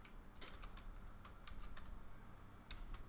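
Quick, light clicks come from a computer keyboard as someone types a short command, a few close but quiet keystrokes over soft room hiss.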